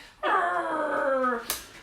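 A door creaks open with a long, loud, drawn-out groaning whine, steady and near, then ends in a short sharp knock as it stops.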